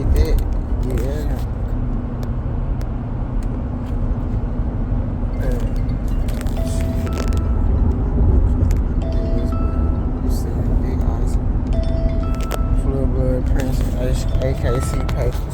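A car drives along at steady speed, a continuous low road rumble and engine hum, with a person talking over it throughout and occasional small clicks and rattles inside the cabin.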